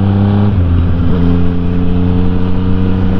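A Yamaha MT-09 motorcycle engine droning loud and close with steady harmonic tones, a brief shift in pitch near the middle as the rider changes gears on a country road, then settling back into a constant hum.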